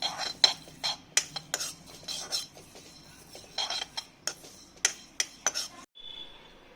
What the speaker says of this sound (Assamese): শুকান কেৰাহীত অকণমান দেৰি ভাজি ল'ম।